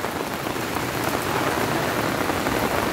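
Heavy rain pouring during Typhoon Carina with southwest monsoon rains in a Philippine subdivision, a dense, loud, continuous hiss of drops hitting surfaces with no break.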